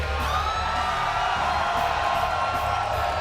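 A packed arena crowd at a TNA wrestling match roars and whoops continuously, loud and close, a dense sustained wall of cheering and yelling with no break.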